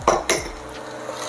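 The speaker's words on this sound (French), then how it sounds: "Là, on vient les mélanger avec notre crème." A spoon clacks twice against a bowl as breadcrumbs are mixed with cream for stuffed tomatoes, followed by softer scraping, close and clear with no voices.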